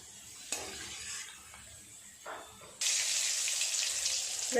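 Potatoes then pointed gourd pieces deep-frying in plenty of hot oil at home during festival cooking, a soft sizzle that jumps to a loud, steady crackling hiss partway through, close by, with no talk.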